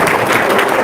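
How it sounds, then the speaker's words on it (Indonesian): Short burst of audience applause at an Islamic religious talk, many hands clapping close and dense without letting up through the whole moment. "Tepuk tangan dong."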